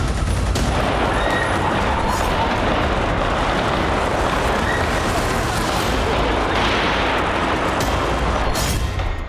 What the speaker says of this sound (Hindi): हमलावरों ने भीड़ पर अंधाधुंध गोलियां चलाई